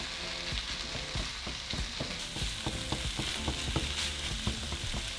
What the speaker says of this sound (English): we're going to add our chorizo. We're going to break it down and cook it for another couple minutes.